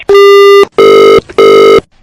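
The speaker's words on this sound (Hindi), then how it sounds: "फिर से फोन कट रहा है, शायद सिग्नल का कोई प्रॉब्लम है" Three loud electronic beeps in a steady rhythm, each about half a second long, a telephone tone signalling a call dropped from a poor signal.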